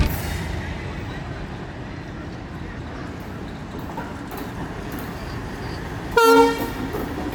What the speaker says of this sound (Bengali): পঞ্চগড় থেকে ঢাকা অভিমুখী আন্তনগর পঞ্চগড় এক্সপ্রেস